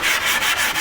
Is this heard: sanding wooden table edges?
yes